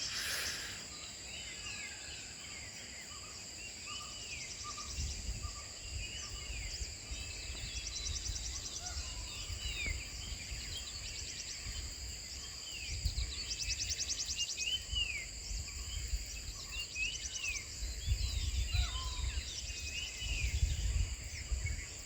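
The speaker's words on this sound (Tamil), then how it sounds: "இந்த பறவைகளுடைய சத்தம்லாம் கேளுங்க." Birds call and chirp repeatedly across a forest backdrop in Bandipur Tiger Reserve, with a steady insect drone and occasional low rumbles underneath, no voices.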